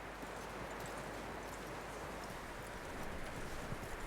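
Horse hooves clip-clop steadily in Red Dead Redemption 2, a soft continuous walking rhythm over a dense ambient bed of wind and rustle, with no talk over it.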